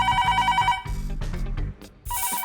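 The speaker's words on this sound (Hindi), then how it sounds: "क्यों बार बार बज रहे हो? देख नहीं रहे हो यहाँ कोई फोन रिसीव करने के लिए नहीं है?" A telephone bell rings in repeated bursts, loud and near, stopping briefly in the middle before starting again, with a short burst of other noise in the gap.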